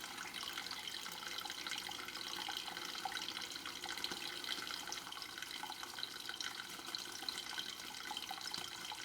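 Water runs from a tap in a steady, continuous stream for the whole stretch, a close, even hiss with no voices over it.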